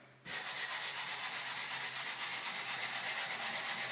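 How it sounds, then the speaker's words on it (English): A hand sander rubs back and forth over a drywall seam, a steady rhythmic abrasive scraping that starts abruptly and continues close and alone. "In order to achieve that smoothness, what we want to do is get our hand sander."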